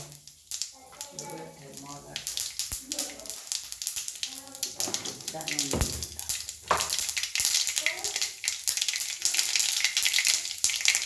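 Mustard seeds crackle and pop in a hot pan while preparing a Kerala bitter gourd curry, a busy sputtering sizzle that grows denser toward the end, heard beneath someone talking.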